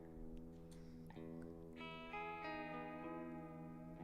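A lo-fi synthesizer with reverb switched on plays sustained, harmonically rich notes that shift in pitch, blurring slightly into one another with a washy tail, steady and close with no talking.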